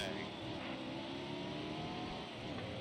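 A race car engine drones continuously at high revs in a mobile racing video game, a sustained and fairly loud whine with no talking.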